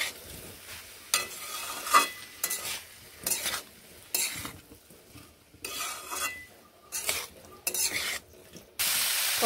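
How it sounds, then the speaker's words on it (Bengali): Broccoli with salt stirred in a frying pan, repeated bursts of spatula scraping and sizzling in uneven strokes, close and fairly loud, with quiet gaps between. "নুন মিশিয়ে নেড়ে নিচ্ছি।"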